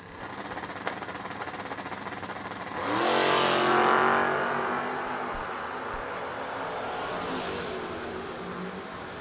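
Drag race cars, one a 1975 Chevrolet Monza, launching at a raceway: an engine note swells sharply into a loud, sustained roar that gradually fades as the cars pull away, with a second faint rise later.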